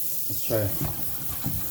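Blackberries being rinsed under a running kitchen tap, a steady water stream splashing into a sink, fairly close and continuous for a moment.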